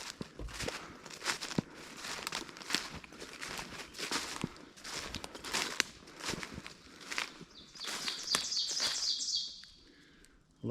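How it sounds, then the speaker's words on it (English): Birds chirp along a muddy, swampy hiking trail, with a quick run of high tweets near the end. Steady crunching footsteps on soft ground and rustling underneath carry most of the way through. "Hello, birds."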